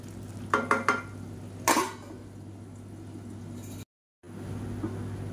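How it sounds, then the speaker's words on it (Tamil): A spatula stirs a thickening onion-tomato mixture sautéing in a pan, giving a few sharp scrapes and knocks early on over a low sizzle, followed by a quieter stretch and a brief cut to silence. "அப்பப்போ கிளறி விட்டுக்கோங்க, அடி பிடிக்காமல் இருக்கிறதுக்கு."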